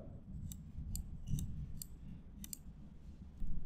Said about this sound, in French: j'enfonce la touche tabulation sur le clavier, la touche tab pour valider